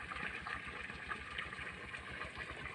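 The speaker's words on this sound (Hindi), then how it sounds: "देखो पानी कैसा निकल रहा है।" Water gushes steadily out of a village pipe, a continuous close rushing splash with no pauses, loud and alone throughout.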